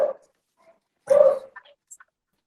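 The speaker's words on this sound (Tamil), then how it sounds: "நாய் குலைக்குது" A dog barks a few times at a distance from a quiet room, one sharp bark followed by a louder bark and a couple of short yips, with silence between.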